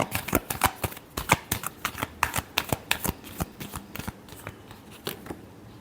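Tarot cards being shuffled by hand, a rapid run of crisp riffling flicks and slaps repeating at a steady, busy rhythm for several seconds, close and clear with no talking.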